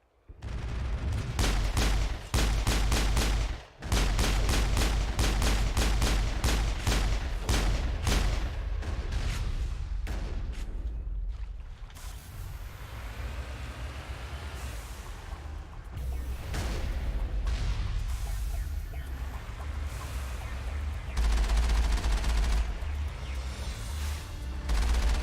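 Rapid, evenly spaced shots ring out in a Mass Effect firefight, a sharp repeating volley early on that gives way to scattered reports and rumbling combat ambience, fairly loud and with no speech.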